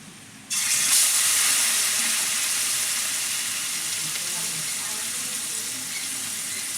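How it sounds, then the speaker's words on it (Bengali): Marinated prawns drop into hot oil and burst into a loud, steady sizzle that holds strongly for several seconds, easing only slightly, with no talk over it. "আর এদিকে আমার তেলটাও গরম হয়ে গেছে। এর মধ্যে আমি মাছটা, এই মাখানো মাছটা দিয়ে দেব।"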